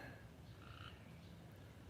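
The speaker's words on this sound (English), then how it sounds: "getting some frogs singing" Frogs croak faintly around a small backyard tub pond, their soft calls repeating under a quiet outdoor hush.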